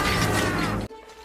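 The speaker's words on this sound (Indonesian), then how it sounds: "Alhasil seluruh jebakan itu menjepret satu sama lain dan mengenai Lars dan Ernie." A rapid chain of mouse traps snapping in quick succession in a Mouse Hunt film scene, dense clattering mechanical snaps that cut off abruptly into near silence.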